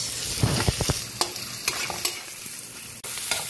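Tofu frying in a pan for bean sprout spring rolls, a continuous low sizzle with a few sharp utensil scrapes and clinks of stirring, close and moderately loud, no talking.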